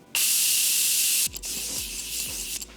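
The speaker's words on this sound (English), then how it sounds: "Now, the setting mist. My favorite ever." A setting mist is sprayed onto a face after makeup in one long, close hiss, followed by a few soft rubbing sounds.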